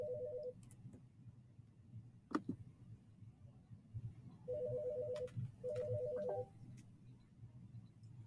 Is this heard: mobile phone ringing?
yes